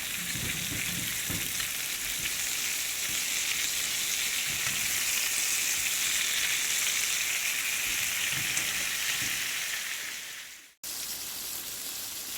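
Breakfast sausage patties brown in a pan with a steady, even sizzle that holds for several seconds, cuts out briefly and then resumes.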